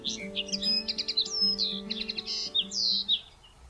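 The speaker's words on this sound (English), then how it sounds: "a single male Eurasian linnet, or bluthändling. This is a small resident finch, and they possess a truly beautiful whirring song" A single male Eurasian linnet, a small resident finch, sings a rapid, whirring run of bright chirps and trills, close and clear, over a faint steady hum.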